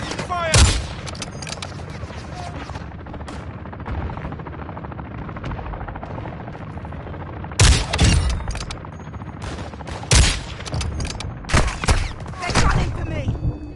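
Gunfire in Modern Warfare 2, continuous battlefield shooting with sharp, loud bursts and bangs standing out over a steady din of distant fire and rumble.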